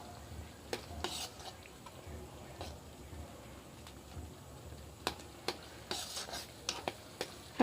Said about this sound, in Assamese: মছলাখিনি দিয়াৰ পিছত ভালদৰে লৰাই দিব।